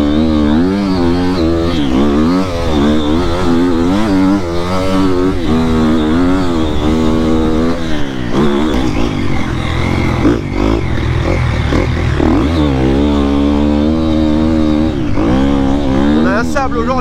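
A Triumph motorcycle churns through very soft beach sand at Longue Plage, Le Touquet, ahead of the Enduropale race, its engine loud and close throughout, rising and falling in repeated revving surges.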